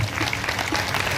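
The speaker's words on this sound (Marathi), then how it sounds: "एकदा सर्वांच्या नावानं जोरदार टाळ्या वाजवा" An audience at a gathering with a religious leader in Ujjain claps in dense, sustained applause that fills the whole moment at an even, loud level.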